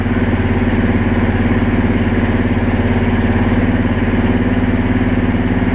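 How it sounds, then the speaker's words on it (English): A car engine idles fast with the choke partly on during a coolant change, a steady, loud, even drone holding the same pitch throughout with no revving. "I do have my choke on a little bit too, so that the engine's running a little bit quicker"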